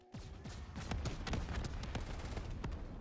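Rapid bursts of gunfire in a Call of Duty zombies map, a steady stream of sharp shots over a dense game soundscape, loud and continuous with no voices.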